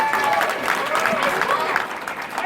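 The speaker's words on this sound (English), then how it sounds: "how about a huge round of applause, please, for Claire Corlett?" Audience applause rings out after a sale closes at a cider festival charity auction, a steady burst of clapping throughout with a voice speaking over it.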